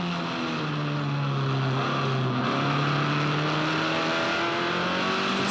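Formula Ford race car on the Eastern Creek track, its engine droning loud and continuous with shifting pitch as the throttle is fed in through a turn, no voices over it.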